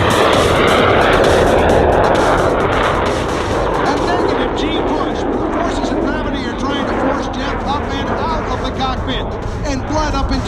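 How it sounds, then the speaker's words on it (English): A Yak-110 aerobatic plane powered by a GE J85 jet engine at the California Capital Airshow, a loud roaring jet pass that fades, with a commentator talking over the public address. "plus GE J85 jet engine equals the Yak-110"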